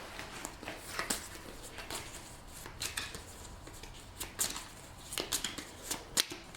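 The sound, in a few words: shuffling character draft cards for a board game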